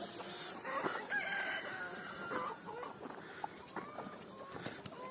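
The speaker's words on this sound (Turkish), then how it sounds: "Karşı tarafın horozuyla bu tarafın horozu birbirine girdi." Roosters fighting, crowing and clucking in agitated bursts, with scuffling and squawks scattered through, moderately close outdoors on a farm with no talking.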